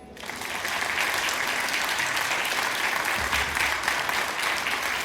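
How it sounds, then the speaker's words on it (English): A studio audience at a Ramadan singing audition show breaks into sustained applause for the judges, dense clapping swelling in within a moment and holding steady and loud throughout. "please give a massive round of applause to our judges for today"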